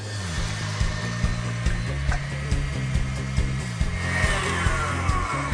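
Electric mixer spinning the wet ingredients for a carrot cake, a steady close motor whir with regular rhythmic pulses as the beaters turn through the batter, no talking.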